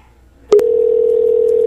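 A telephone line picks up with a click, then a steady, loud, unbroken dial tone hums on during a radio call-in show, with no voices.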